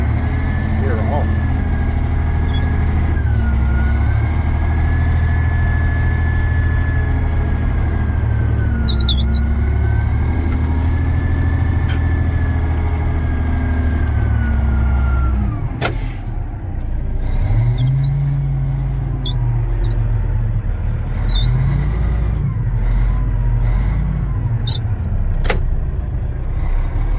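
A Caterpillar 980F wheel loader's diesel engine runs loud and steady up close with a sustained tonal whine, then shifts after a clunk as the machine is put into forward and begins to move; someone talks over parts of it.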